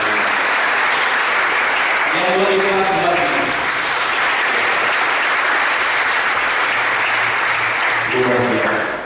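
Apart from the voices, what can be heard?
congregation applause in church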